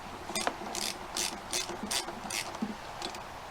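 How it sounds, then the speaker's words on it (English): A ratchet with a spark plug socket works counterclockwise to loosen the spark plug on a Stihl BG36 leaf blower, giving about eight quick, close clicking strokes in a steady rhythm. "So you want to get your spark plug socket and ratchet, or a wrench that they make for them. Turn it counterclockwise."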